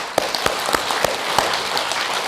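A Sunday Buddhist service congregation breaks into scattered, moderately quiet applause, individual sharp claps standing out over a soft continuous patter, with no talking.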